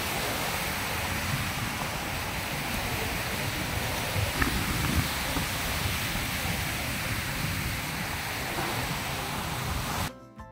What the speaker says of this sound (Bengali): সাগরের ঢেউগুলো আমার কাছে সবচেয়ে বড় মনে হয়েছে, সাথে পাথরে আছড়ে পড়ার শব্দও ছিল সেই রকম।